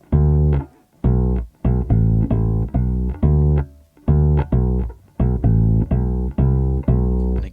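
Bass guitar plays a riff slowly, about a dozen loud, deep plucked notes in an even rhythm, each ringing briefly before the next, with short gaps between phrases and no talking.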